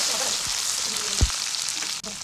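Chopped tomatoes and green chilies hitting hot oil in a pan with browned onions make a steady, bright sizzle, broken by a couple of low thumps.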